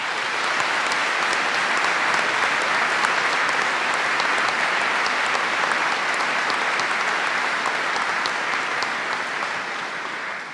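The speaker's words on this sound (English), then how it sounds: "Let's give all of them a round of applause." A large commencement audience of Coast Guard graduates, families and friends breaks into sustained applause, a broad, steady roar of clapping from many hands that holds at full strength for about ten seconds before easing slightly.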